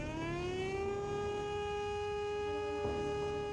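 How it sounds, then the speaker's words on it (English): An air raid siren in the video game Punishing: Gray Raven wails as a steady, loud, rising-then-holding tone with layered harmonics, sustained throughout with a slight pitch dip near the end. "A piercing wail suddenly blares from above. It is the air raid siren."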